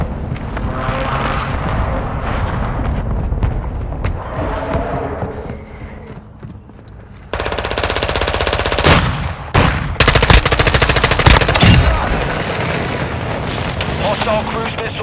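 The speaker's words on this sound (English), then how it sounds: "Hostile airstrike incoming" Rapid machine-gun fire and heavy airstrike explosions erupt in Call of Duty Modern Warfare II multiplayer, with loud bursts and booming blasts following one another and game voices talking through the chaos.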